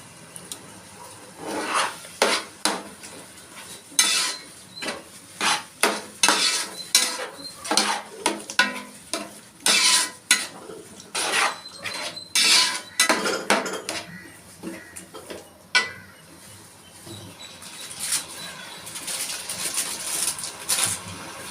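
A spoon scrapes and clanks against a cooking pot as yogurt is stirred into prawn biryani in a home kitchen, an irregular series of close metallic knocks and rubbing strokes, no talk.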